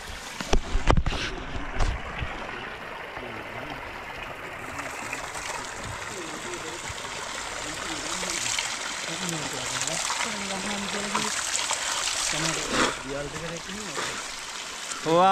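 Water pours steadily from a bathing spout in a village near the Knuckles range, a continuous rushing splash with people talking over it throughout.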